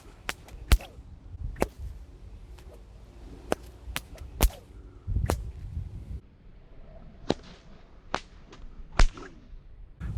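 Whip cracking with the breakaway three-crack technique: sharp, loud snaps come in quick groups of three, with soft swishes of the thong between them, repeated several times in an even rhythm, with no talking.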